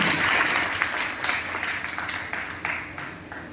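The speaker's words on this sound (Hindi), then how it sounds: "एक बार जोरदार तालियां जाए सर" Loud, dense applause from an audience at a World Pharmacist Day speech, sustained throughout with a few swells of clapping.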